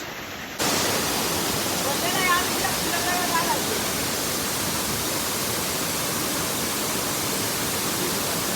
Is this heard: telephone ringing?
no